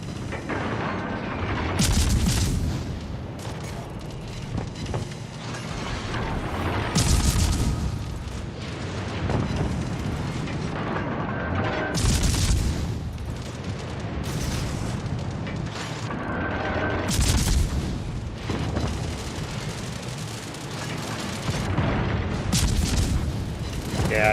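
Warship main guns fire salvos in World of Warships Legends, with heavy booming blasts and rumbling detonations that recur every few seconds over a dense, loud battle din.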